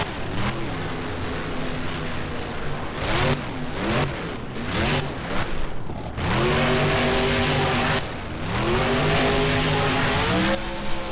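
A monster truck's engine in the BeamNG video game revs hard and roars repeatedly during a freestyle run at Lightningscape. Loud, close surges rise and fall in pitch with brief breaks between, and no talk is heard.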